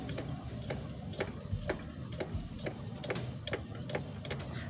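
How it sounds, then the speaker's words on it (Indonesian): A diesel car's hand fuel primer pump clicks and squeaks in a steady rhythm, about two strokes per second, close by with a low background hum. "tinggal kita pompa saja guys, pompa solarnya"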